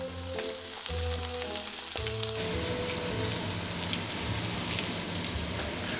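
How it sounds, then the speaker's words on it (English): Steak searing in hot avocado oil fills the pan with a loud, dense sizzle and spattering crackle that swells after the first couple of seconds and holds steadily. "We're gonna cook it with avocado oil."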